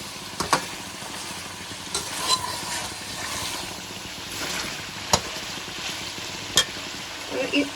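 Ginger garlic paste fries with mutton pieces in a pan for aloo gosht, giving a steady, close sizzle with occasional sharp scrapes and knocks of a spoon as it is stirred, and no voices.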